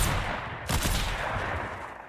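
Sniper rifle shots in a video game during a one-on-one match: a sharp report with a long crackling tail, then steady loud gunfire texture filling the rest of the stretch.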